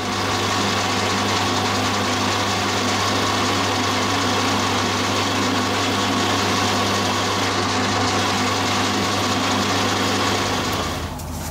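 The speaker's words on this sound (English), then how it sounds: "We're going to bore this out now to take the throat plate." A lathe bores out a hole in a cast aluminium bandsaw table to take a throat plate, giving a steady, loud machining whine and hum that holds unbroken before cutting off at the end.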